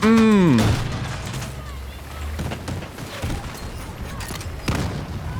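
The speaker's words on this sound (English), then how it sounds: "But we are taking fire." Gunfire and impacts in the Battlefield 6 open beta during a fight near a tank, sounding as scattered bursts and thuds under talk after a loud opening tone.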